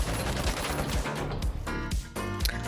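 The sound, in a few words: gunfire in The Finals video game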